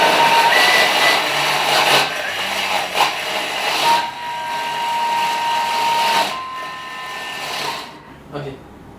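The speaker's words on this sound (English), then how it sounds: "Go to the option of blending. So for me, I'll just put a quick 15 seconds, no temperature at all" Thermomix whirring as it blends chimichurri sauce for about fifteen seconds with no heat, a steady high motor whine that fades near the end, with a person talking over it.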